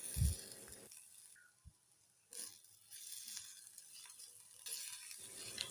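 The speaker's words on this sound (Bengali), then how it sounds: "আদা ও রসুন আবারও হালকা ভাজা ভাজা করে নিচ্ছি" Chopped ginger and garlic fry lightly in oil in a pan, a faint soft sizzle broken by a few stirring scrapes and brief pauses, quiet and close with no talking.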